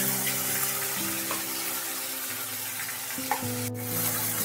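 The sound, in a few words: ground tomato paste sizzling in oil with nigella seeds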